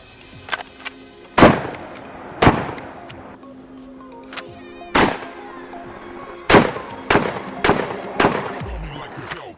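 A UTAS UTS-15 shotgun fires about eight loud, sharp blasts at irregular intervals outdoors, each with a short echoing tail, with faint bits of talk between shots.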